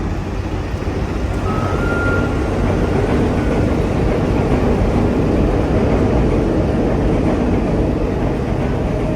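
A New York City train rumbles past up close on a viaduct, a steady, loud broadband roar with clattering texture holding constant throughout.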